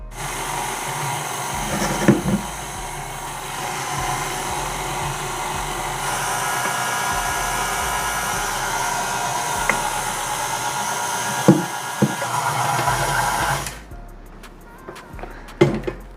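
A stand mixer with its paddle attachment beats flour into brown butter chocolate chip cookie dough, a steady motorized whir with scraping thumps that runs loud and close for most of the clip before cutting off near the end.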